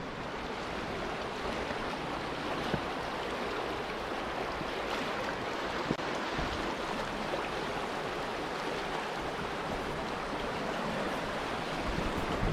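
Water pours steadily over a beaver dam spillway on the Kings River, a continuous rushing wash heard close up with some wind noise and no voices.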